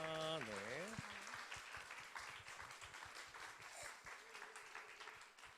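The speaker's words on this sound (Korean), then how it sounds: "올라오실 때 큰 박수 부탁드립니다." Congregation applause at a Sunday young adults' church service as speakers come up, a moderate spread of clapping following a brief spoken exclamation with a pitch sweep at the start, continuing at a quiet, fairly distant level.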